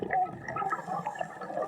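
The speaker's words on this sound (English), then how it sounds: "the feeling that you have underwater with the sound of the bubbles" Air bubbles rising underwater, a continuous gurgling, bubbly wash with small pops and burbles, steady and fairly close throughout.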